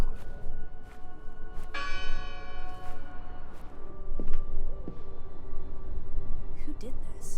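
A church bell tolls in the video game Draugen, its bright ringing partials starting partway through and hanging over a steady outdoor ambience, with faint talk around it.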